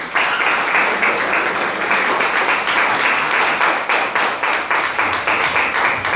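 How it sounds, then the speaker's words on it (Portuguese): A church congregation applauding at a worship service, a dense, loud wash of steady clapping that carries on evenly and alone throughout. "aplauda o Senhor Jesus"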